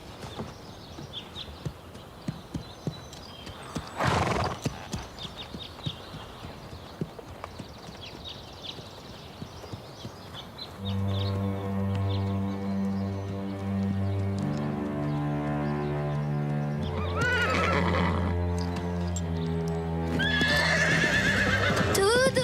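Hooves of a horse clip-clop in uneven steps, then a mare named Prancer whinnies loudly a couple of times over a musical score in the second half.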